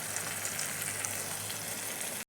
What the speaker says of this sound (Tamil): இப்போ பூண்டு போய் சேர்த்துக்கலாம் சேர்த்து நல்லா கலந்து கொடுங்க பெருங்காயம் சேர்த்துக்கலாம்